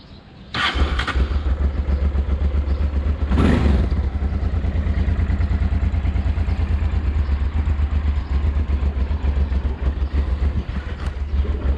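Motorcycle engine cranking and catching, then idling with a steady low throbbing rumble close by, with a brief revving burst early on.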